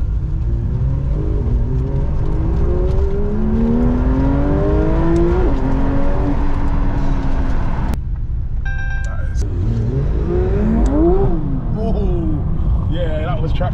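Porsche 992 GT3 RS accelerating hard, heard from the cabin as repeated rising engine sweeps broken by quick gear shifts, loud and continuous with brief chatter and a short electronic tone midway.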